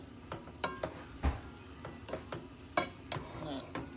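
A spoon stirs cooked Uncle Ben's rice in a pot, giving soft scraping swishes and a few light metallic clinks against the pot, quiet and intermittent.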